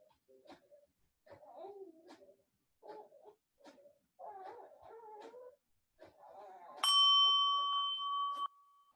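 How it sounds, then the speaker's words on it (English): A meditation bell rings once with a clear, sustained metallic tone that rings out for nearly two seconds, after a calm voice speaks in short phrases with pauses. "And when you hear my bell,"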